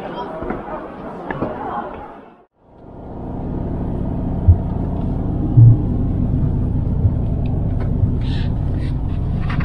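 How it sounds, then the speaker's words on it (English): Rental car driving on roads through the Italian countryside, a steady low interior rumble with road noise after a brief dip, with occasional small knocks; a voice is heard at the start. "Time now for me to get the rental car and start driving."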